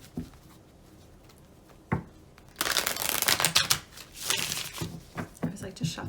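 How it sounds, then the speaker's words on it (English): Tarot cards are riffled and shuffled in several quick bursts of crisp fluttering and slapping, close by, with a couple of sharp taps before. "I always like to shuffle on camera so everybody can see."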